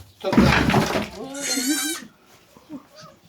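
Newborn goat kids bleat in a loud, quavering cry lasting about half a second, following an opening burst of noisy handling sound, with a few faint rustles afterward.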